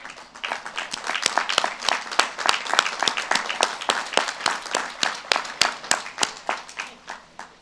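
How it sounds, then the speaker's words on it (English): Sustained applause from a large crowd at the Randolph-Macon College 2018 commencement, dense clapping with sharp individual claps standing out, steady and fairly loud throughout. "Thank you for that applause"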